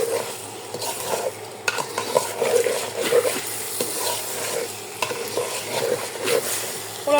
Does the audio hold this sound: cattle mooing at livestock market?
no